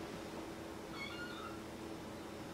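A foster kitten gives a couple of faint, thin meows over quiet room hiss, short calls standing alone without talk.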